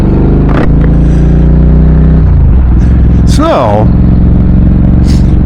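A motorcycle engine drones steadily with road and wind noise during a ride, loud and continuous under someone talking.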